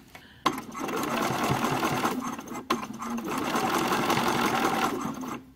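A sewing machine fitted with an even feed foot stitches a knit top, a steady close whirring run that starts abruptly, pauses briefly midway, then resumes alone without talk.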